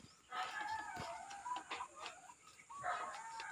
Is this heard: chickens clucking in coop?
yes